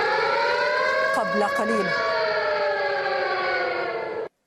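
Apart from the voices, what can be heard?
air raid sirens during rocket fire in Tel Aviv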